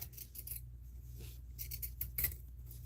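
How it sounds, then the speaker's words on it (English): Scissors trimming thin fabric around a dish drying mat for a sewing machine pad: soft, close snips in a loose rhythm of several cuts, fairly quiet with a low hum beneath. "But everywhere else, I'm trimming around, making about a 1/4 inch"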